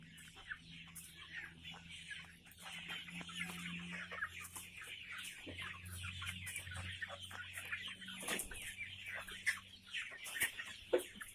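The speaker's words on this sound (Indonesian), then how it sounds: "Kali ini saya membawakan oleh-oleh ya untuk ayam kampung saya." Free-range village chickens cluck continuously at close range, with scattered sharper calls standing out over a steady busy flock.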